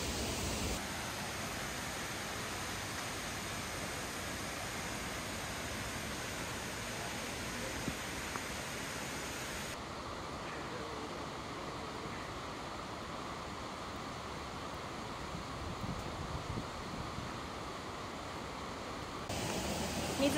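The stream below Nunobiki Falls on Mount Maya near Kobe rushes steadily in a continuous broadband roar, constant throughout with no voices.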